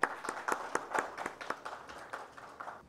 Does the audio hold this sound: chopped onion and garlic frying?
no